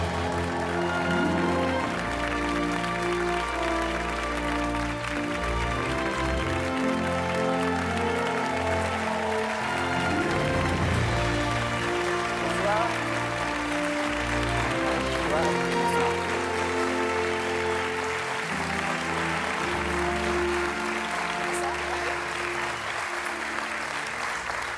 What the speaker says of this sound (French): Merci d'applaudir Adèle Haenel et Joséphine Japy.